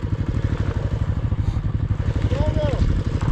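Motorcycle engine labouring on a steep mountain road climb in Spiti Valley, a steady rattling drone that runs continuously and loud throughout, with a brief rising whine near the end and voices talking over it.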